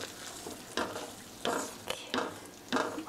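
A tofu sauce is stirred in a pan with pepper added after the heat is off, a faint soft sizzle broken by four or five scraping strokes of a utensil at a slow, even pace.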